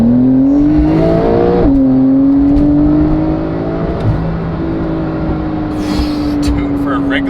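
A Porsche 992 Carrera in normal drive mode accelerates hard: the engine note climbs, dips at a quick upshift, then pulls steadily upward again, heard loud from inside the cabin with people talking over it.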